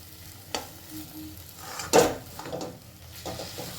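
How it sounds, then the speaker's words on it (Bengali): Mooli greens (radish leaves) and dal being stirred and tossed in a pan on a high flame, with a constant sizzle broken by several scraping spoon strokes, one loud clatter near the middle, and no voices. "এবারে গ্যাসের ফ্লেমটাকে হাইতে করে খুব ভালো করে একটু নাড়াচাড়া করে এটা শুকনো শুকনো মতন করে নিতে হবে।"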